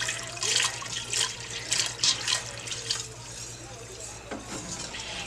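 Milk streaming from a jug into a thickening roux for Southern biscuit gravy, a steady liquid pour with splashing and stirring that rises and falls over several seconds, close and fairly loud.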